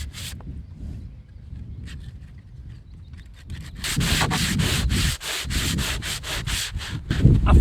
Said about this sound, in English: rebuilding a boat is actually just a load of sanding